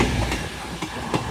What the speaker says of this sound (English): Also down there is your 1332 LNER Zoomer service from Edinburgh Waverley to London King's Cross.